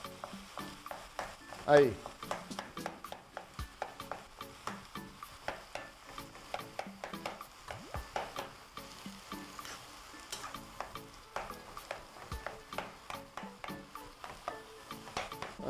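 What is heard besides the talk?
food sizzling and being stirred in a frying pan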